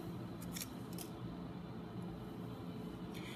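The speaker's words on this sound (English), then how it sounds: "I need to cut 3 millimeters from the end, because that's the actively dividing root tip" Sharp scissors snip the tip off a plant root, giving a few brief, quiet cuts over a faint steady background hum.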